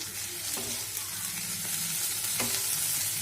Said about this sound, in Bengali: পেঁয়াজটা লাল লাল ভাজা হয়ে গেছে। এবার রসুন দিয়ে দিলাম।